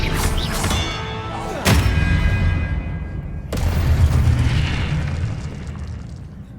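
Spell-casting explosions from Hogwarts Legacy: three sharp booms land a second or two apart, each followed by a long, rumbling decay that fills the gaps.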